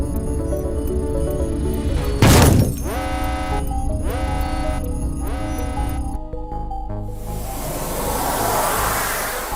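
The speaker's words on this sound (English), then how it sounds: "While we were crashing, I estimated that damages to the ship would be very high." Spaceship crash sequence in the Morphy Science video game: a loud sudden burst of impact noise near the start, then repeated rising electronic sweeps and a rushing, hissing roar that builds toward the end, no talking.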